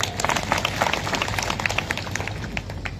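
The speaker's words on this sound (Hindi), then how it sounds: "ताली बजाए उनके लिए" An audience at a speech on World Tribal Day claps for the panchayats, with steady, dense applause from many hands filling the whole stretch at an even level.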